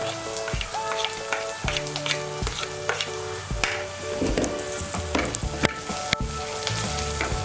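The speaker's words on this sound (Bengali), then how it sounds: "এখন আমি এর মধ্যে দিয়ে দেবো গ্রেট করা আদা।" Grated ginger hits hot oil with fried onion and sizzles steadily up close, with crackling pops and occasional stirring scrapes in a pan of Bengali jhal suji.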